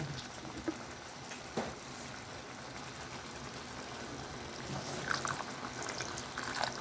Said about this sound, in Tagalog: Lagyan ko siya ng konting tubig, oh.